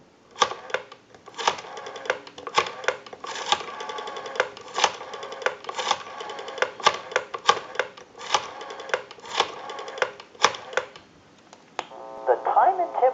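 Rotary dial of a Western Electric 302 desk telephone being turned and released for a call, repeated bursts of rapid clicking pulses with short pauses between digits, close and clear, ending as a faint tone begins on the line.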